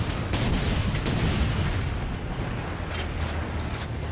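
An enemy fires during combat in the game Warhammer 40K Space Marine, a dense continuous roar of gunfire and blasts with a few sharper bursts rising out of it and no talk.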